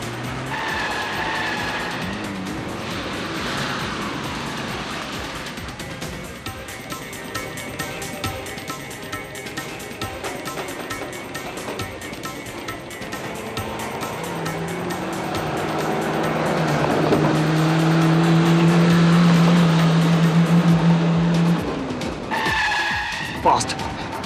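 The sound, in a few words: car being driven fast, tires squealing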